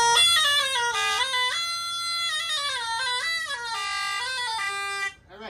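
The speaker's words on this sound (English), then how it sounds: "Now we're gonna play the talabod," A talabard, the Breton bombarde double-reed instrument, plays a loud, nasal sustained melody with shifting held notes and bright reedy overtones, alone and close, ending abruptly near the end.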